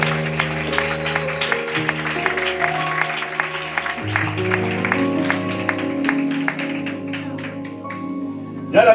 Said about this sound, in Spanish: Den un fuerte aplauso para el Señor.